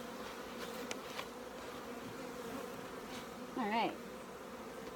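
Honey bees drone steadily around small hives being combined and prepared for winter, a continuous close buzzing hum. A single bee zips loudly past the microphone near the end, and a voice speaks briefly.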